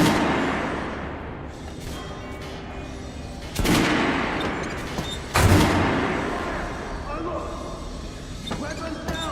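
In Metro: Last Light, gunfire on command cracks out as two sharp, loud shots a couple of seconds apart over a constant rumbling background, with a few lighter clatters after.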